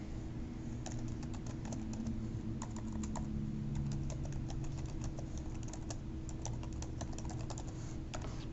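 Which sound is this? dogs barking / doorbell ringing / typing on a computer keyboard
typing on a computer keyboard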